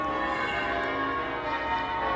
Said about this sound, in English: The bells are driving me crazy.